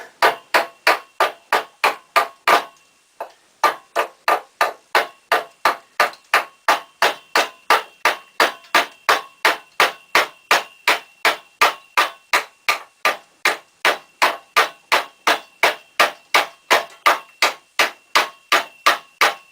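Hatchet chopping wood while shaping salad servers, about forty sharp, evenly spaced strikes in a fast steady rhythm, close and loud, with one short pause early on.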